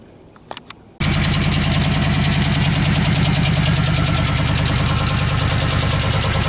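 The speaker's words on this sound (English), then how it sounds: "he hears a knocking noise under the hood when it's running" After a few soft clicks, a 2015 Chevy Express van's 4.8L engine starts abruptly and idles loudly up close, a rapid rhythmic lifter knocking ticking through the steady drone under the hood.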